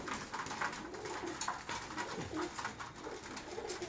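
Several pigeons coo in low, overlapping murmurs close by, a busy continuous chorus with light rustling underneath.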